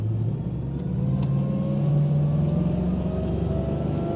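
The V8 engine of a Rand Leisure 28 sportsboat drones steadily at sea as it accelerates flat out, with its pitch rising gradually under the constant rush of water and wind.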